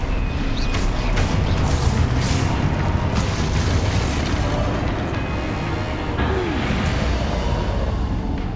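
Stupefy spells cast in combat in the Hogwarts Legacy video game, heard as booming magical blasts over a dense, continuous roar of game effects with no voices.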